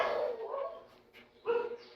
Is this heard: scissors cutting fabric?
no